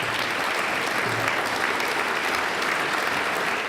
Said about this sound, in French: Et je vous demanderai de l'applaudir.